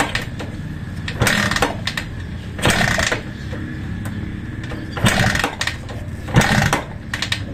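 A small engine runs after spark plug replacement on a restoration unit, a near, steady mechanical drone broken by several louder rhythmic bursts as it revs in repeated surges.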